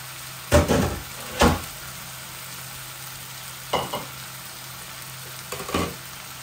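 Tilapia fish frying in a pan with fried potatoes and capsicum, a steady sizzle broken by a few louder bursts of stirring or the pan being handled, close by with no talk.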